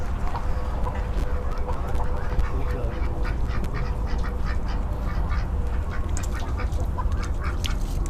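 A group of ducks in a rural village yard quacking repeatedly and irregularly, close by and fairly loud, with calls overlapping across the whole stretch over steady outdoor background noise and no clear talk.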